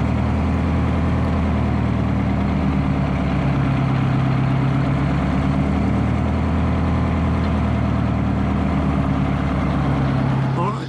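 A rebuilt Detroit Diesel marine engine idles steadily with a deep, throbbing rumble, loud and close, holding an even rhythm throughout.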